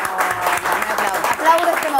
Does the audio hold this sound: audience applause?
yes